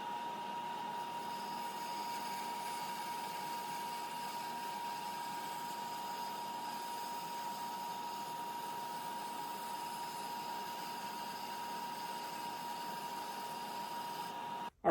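Bandsaw on a shop-built log mill runs with a dust collector hose pulling sawdust, a steady broadband whine and rushing airflow held at an even level throughout, with a short clunk at the very end.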